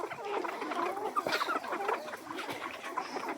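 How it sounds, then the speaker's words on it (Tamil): Siruvidai country mother hens on a farm cluck and murmur softly in a loose, overlapping chatter, close but quiet, with no one speaking over them. "இதுதான் நம்ம பண்ணையில் உள்ள தாய்க்கோழிகள், சிறுவிட தாய்க்கோழிகள்"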